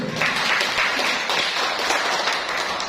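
Applause from a church congregation at a Catholic charismatic prayer gathering, many hands clapping in a steady wash, close and fairly loud, with no clear talk over it.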